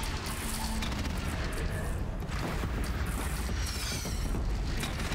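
Cannon fire in the action game Horizon Zero Dawn thuds in repeated heavy booms amid dense, continuous battle noise, rapid and loud, with no voices during the bursts.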